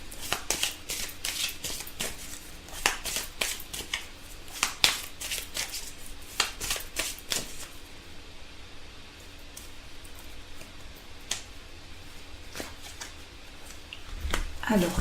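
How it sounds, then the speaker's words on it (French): Tarot cards being shuffled and drawn for a daily reading, giving brisk papery riffles and soft slaps that cluster early on, thin out into quieter rustling later, and end with a louder shuffle, all close and fairly faint. "on va tirer une carte conseil pour compléter ce tirage"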